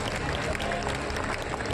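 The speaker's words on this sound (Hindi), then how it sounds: "कृपया खड़े होकर जोरदार तालियों से सीएम साहिबा" A standing crowd in Bhati, Delhi claps loudly to welcome Chief Minister Rekha Gupta, dense steady applause mixed with crowd noise and a voice over a loudspeaker.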